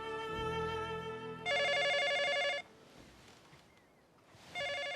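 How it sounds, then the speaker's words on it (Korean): A telephone rings in a film scene with two distinct electronic trill bursts separated by a pause. A low tone and faint room noise come before them, and the whole passage is moderately quiet with no speech. "이른 새벽 잠을 깨운 한 통의 전화."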